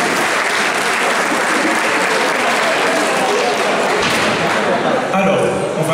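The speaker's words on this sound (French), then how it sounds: "s'il vous plaît, on leur fait juste un petit applaudissement pour la municipalité qui nous soutient pour l'événement" Dense, loud applause from a concert audience at the Mangame festival in Fréjus, sustained for several seconds and thinning slightly toward the end.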